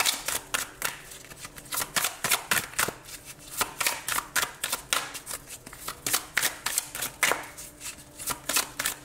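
Tarot cards are shuffled close up in a steady rhythm of quick riffles and soft slaps, repeating evenly with no talk over them.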